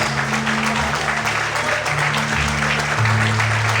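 Church congregation applauding during an evening service, dense continuous clapping mixed with sustained organ or keyboard chords underneath, loud and steady.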